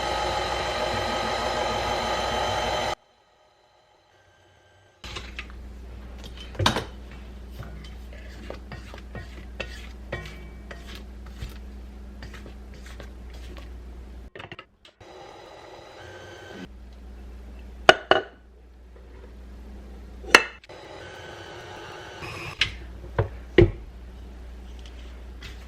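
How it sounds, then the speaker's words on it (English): A spatula scrapes around a mixing bowl as powdered sugar is worked into vanilla birthday cake icing, giving soft steady scraping with sharp clinks and taps against the bowl after a brief burst of mixer noise. "scrape the bowl just to make sure all the powdered sugar is being mixed in with the icing"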